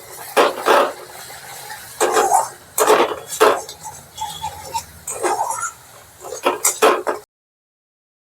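Spice masala of ground coriander, cumin, a splash of water and a little sugar is stirred and fried in a pan, heard as loud intermittent bursts of a spoon scraping and clattering against metal, separated by short pauses.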